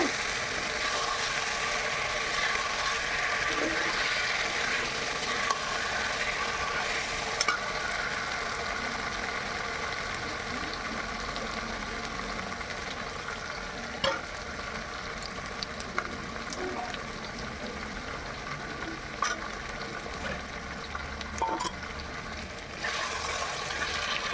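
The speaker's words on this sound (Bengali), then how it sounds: "ভালো করে নেড়ে চেড়ে নেবো" Chicken chaap pieces being stirred in a pan with spices, giving a steady soft frying sizzle with small scraping clicks from turning the meat, heard alone for the whole stretch.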